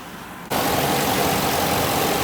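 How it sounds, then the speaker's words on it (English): A rebuilt 6.4L HEMI V8 idles steadily after a MAP sensor repair, cutting in loud after a brief quiet start and holding an even, close rumble with no voices. "Running like a top now. We fixed the map sensor in the back. Now it actually idles right."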